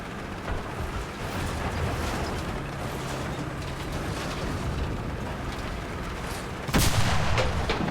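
Gunfire in a first-person shooter video game, a dense continuous stream of rapid shots held at a steady level for several seconds, ending in a louder, sharper burst of blasts near the close.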